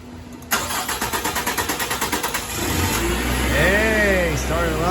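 A 2018 Nissan Frontier 2.5 L engine, just sprayed with throttle body and top engine cleaner, cranks with a rapid rhythmic whir for about two seconds, then catches and settles into a steady close idle.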